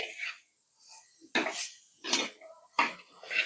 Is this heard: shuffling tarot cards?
no